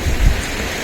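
Steady broadband hiss of rain pouring down during Typhoon Pepito, a brief dull thump near the start, with no voices.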